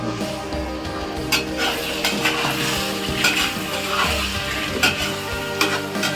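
Pork sizzles in a wok with chili powder, loud and close, with repeated scraping and clanking strokes of a spatula stirring the meat and no voices over it.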